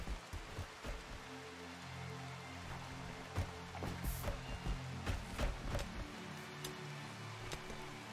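Steady rain drumming on surfaces in the colony-sim game Rimworld, a continuous dense patter with scattered sharper drops and ticks running the whole stretch at moderate level, no talk.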